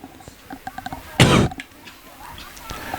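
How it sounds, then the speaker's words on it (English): A single sharp cough cuts in close to a microphone during a Bellarine Football League match broadcast, Ocean Grove v Barwon Heads, a brief loud burst between quieter scattered background sounds. "if you want to have a cough"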